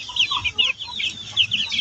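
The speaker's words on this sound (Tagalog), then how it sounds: "update tayo sa aking biniling 45 days na manok" A flock of 45-day-old chickens clucks close by, repeated short bright clucks in quick irregular bursts, some overlapping, over quiet background.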